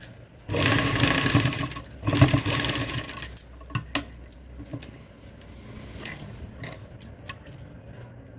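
Sewing machine stitching over elastic during a tailoring job, a loud whirring run in two bursts at the start, followed by quieter stop-start clicks and rattles of the mechanism with no voices.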